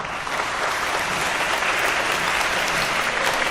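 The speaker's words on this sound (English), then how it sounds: "I applaud everyone." Steady applause from an audience at a school gathering honoring young people, a dense, even wash of clapping filling the whole stretch without pause.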